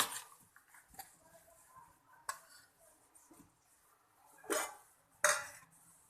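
A spoon scraping and clinking in a pot as veg pulao rice is mixed, soft scrapes with a few louder clanks against the metal, heard close up with no talking.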